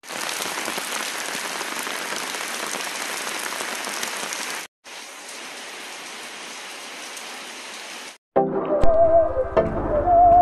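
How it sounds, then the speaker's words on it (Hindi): Heavy monsoon rain roars in a loud continuous wash over two stretches, then cuts to a different tonal, humming scene at the end. "भयंकर बारिश हो रही है।"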